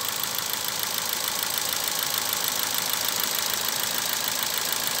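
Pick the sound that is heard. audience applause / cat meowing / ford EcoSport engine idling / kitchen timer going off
ford EcoSport engine idling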